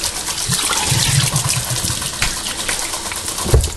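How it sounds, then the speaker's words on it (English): Cold tap water gushes and splashes over a raw beef brisket being rinsed in a kitchen sink, a steady rushing hiss with irregular splatters as the meat is turned, no talking. "Cold water, please. Rinse it off really good."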